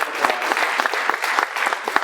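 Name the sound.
applause for the mentoring program's volunteer mentors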